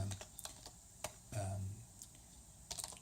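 Computer keyboard keys clack in quick, scattered taps at close range, a few sharper presses standing out, with faint background murmur.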